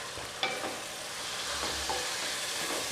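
Pepper chicken being stirred in a pan with ground pepper masala, a steady close sizzle with scattered scraping and clinking strokes of the spoon, no voices.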